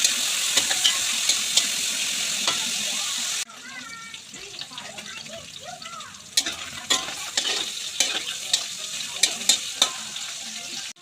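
Pork, thawed from the freezer, frying and being stirred in a pan for pork tausi, a steady close sizzle with scraping stirs and a brief quieter stretch midway.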